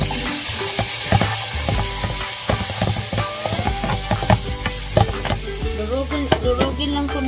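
Onion and tomato sauté in a hot pan for a sayote and tofu dish, with a constant close sizzle under repeated scraping and stirring clinks of a utensil against the pan, and no talking.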